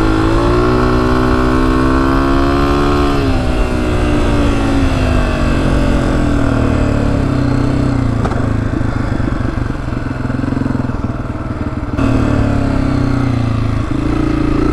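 A 2024 Honda CRF250F dirt bike engine runs steadily through a hot desert ride, loud and close, with the pitch climbing early on and then settling into a sustained rough drone with slight clattering.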